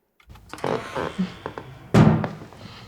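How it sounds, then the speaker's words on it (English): A series of wooden door knocks and thumps, ending in a heavier slam, each with a roomy reverberant tail. "without this reverb, this is what this door would sound like."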